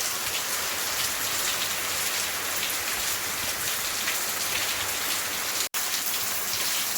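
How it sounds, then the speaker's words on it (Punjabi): Heavy rain pours steadily in Bathinda, Punjab, a dense, unbroken hiss of drops close by that continues throughout, with one abrupt momentary dropout near the end. "ਇਧਰ ਮੀਂਹ ਪੈ ਰਿਹਾ"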